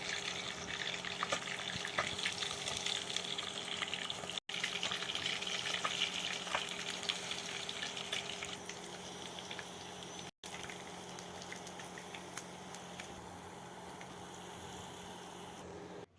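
Pieces of fish fry in a pan for a pre-dawn meal, a soft continuous sizzle and crackle that holds steady and quiet throughout.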